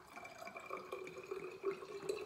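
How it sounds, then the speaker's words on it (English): Tap water runs into a plastic foaming hand soap bottle that already holds orange essential oil, a faint, steady trickling with light splashes and no talking. "I just fill the rest of it with water and then shake it up."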